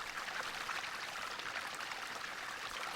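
Continuous water noise from a pond in the video game Team Eggplant, a steady rushing, pouring sound with no distinct pauses and no speech over it.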